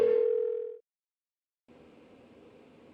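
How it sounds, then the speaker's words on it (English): A phone ringing unanswered in the video game Persona 4 Golden, one long ring tone that cuts to silence before a steady buzzing line tone starts, clear and close with no voices. "Why won't she pick up the phone? Come on, please!"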